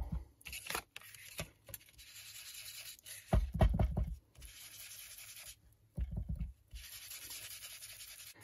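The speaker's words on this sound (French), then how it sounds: "Donc je vais ancrer tout ça avec la Distress Vintage Photo." An ink blending tool rubs Distress Vintage Photo ink onto junk journal paper, making soft, close scrubbing and swishing strokes in short uneven bursts with small pauses between them.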